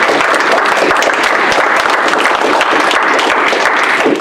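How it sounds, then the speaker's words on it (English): An audience at a discussion on fighting child sex trafficking breaks into dense, steady applause, loud and continuous for the whole stretch with no pause or voices on top. "I would like everyone to clap for you."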